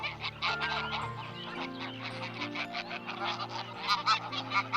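Greylag geese honk repeatedly in a dense, overlapping flock chorus, steady and moderately near, with no voices.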